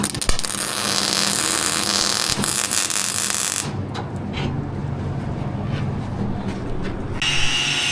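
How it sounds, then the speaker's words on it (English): Welding on a manure tank baffle produces a steady, loud hissing crackle up close, continuous for several seconds before shifting to a duller buzzing rush, with no talk over it. "What the hell are you welding?"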